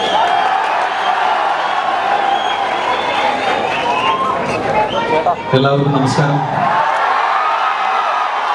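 Audience applause and cheering fill the hall at the closing ceremony of the 56th Kerala State School Kalolsavam 2016, a steady wash of crowd noise running the whole way while a man greets the crowd over it.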